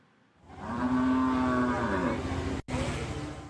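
Cattle in Pati Regency, Central Java, during a foot-and-mouth disease outbreak, give one long, loud moo that rises and bends downward, near and alone, followed by quieter background rumble after a brief cut.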